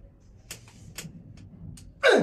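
Several short, sharp cracks from joints popping during a chiropractic adjustment, spaced out one by one at close range, followed by a louder burst of noise at the end.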